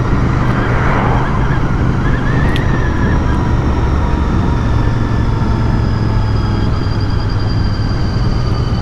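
Royal Enfield Bear 650 motorcycle riding on greasy, cold roads, a steady loud engine and road drone with heavy wind rush running unbroken throughout.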